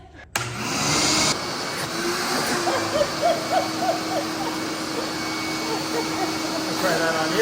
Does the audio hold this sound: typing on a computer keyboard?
no